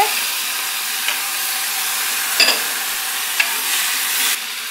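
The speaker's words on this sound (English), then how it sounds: "just let those cook and just keep an eye on them and give them the odd stir" Onions sizzle steadily in a frying pan over heat, a continuous bright hiss broken by a few soft scrapes and clinks as they are stirred now and then; no voices.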